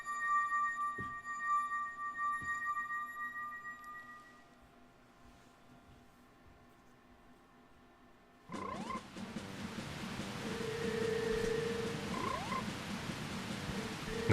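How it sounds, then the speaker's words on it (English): Frogs croak in the video game Zelda: Majora's Mask. A quiet stretch of steady tones and soft croaks gives way to a denser, louder passage of croaking over game music. "Now get out of my sight, frogs."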